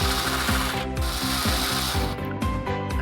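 A screwdriver backs a screw out of a Lenovo ThinkCentre M91p small-form-factor case, a steady ratcheting click repeating in quick, even bursts, close and loud throughout.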